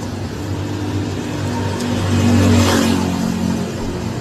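A car engine revs loudly nearby, a steady rumbling idle swelling into a brief vroom around the middle before settling back, with no talking over it.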